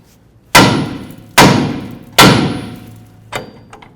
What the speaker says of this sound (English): Let's go ahead and bonk right on the knuckle right here.